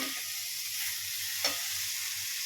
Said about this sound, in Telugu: చూసారా బాగా ఉడుకుతుంది కదా